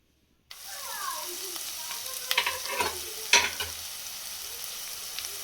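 Onions fry with a steady sizzle in a pan while a spoon stirs and scrapes through them in irregular bursts, close and fairly loud. The onions are being cooked for a green gram (hesaru kalu) palya, after garlic and curry leaves have gone in.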